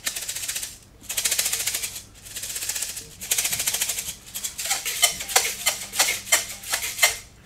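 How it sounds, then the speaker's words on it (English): A homemade shaker filled with rice is shaken in bursts, loud and close, the grains rattling in sustained swishes with brief pauses, then breaking into sharper rhythmic shakes toward the end. "Just like that, you can make your own sound effects, your own noisemakers."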